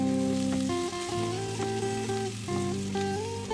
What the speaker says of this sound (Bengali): এবার সব সবজি ভাজাগুলো দিয়ে দিলাম